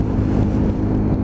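Lexmoto ZSX-F 125 motorcycle engine running with a steady, dense low drone and constant loudness, close up and with no voices.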